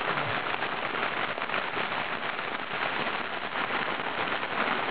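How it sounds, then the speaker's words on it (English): Heavy rain pounding on the Sandy River near Winterford Lake during a storm: a dense, steady hiss of drops hitting water, close and continuous with no talking. "this little bit of rain that's just pounding the crap out of everything"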